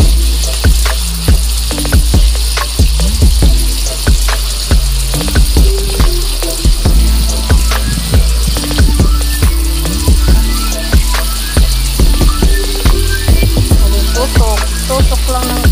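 Garlic pork longganisa fries in hot oil with loud, steady sizzling and frequent sharp spattering pops while the sausages are poked, close and continuous with no talking.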